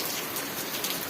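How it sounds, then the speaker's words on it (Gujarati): Steady, dense rain pours down in a Gujarat village, a continuous close hiss of drops striking surfaces with no pauses and no voices. "ફાઇનલી પલંટા વરસાદ ચાલુ થઈ ગયો"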